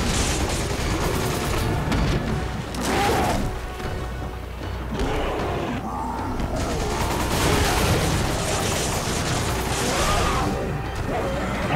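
Gunfire rattles continuously during a boss fight in Resident Evil 5, dense bursts of shots and crashing impacts layered over loud game music and effects with no pauses.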